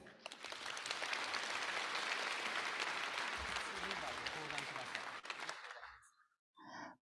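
Broad clapping from an audience at an opening ceremony, honoring committee members, runs steadily for about five seconds and tapers off, followed by a short spoken phrase.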